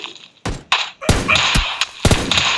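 Gunfire in PUBG Mobile Lite, a short burst of sharp thumping shots spread across a few seconds, punchy and close, with no talk over it.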